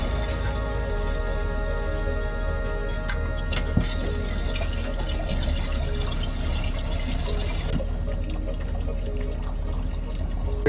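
Water runs and drips from a freshly cut household water line during a water softener installation, a steady close spatter with no pause throughout.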